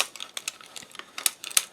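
A Towel Tamer knitting machine is cranked with yarn, giving a quick run of sharp, light plastic clicks and ticks at an irregular rhythm, close and fairly crisp.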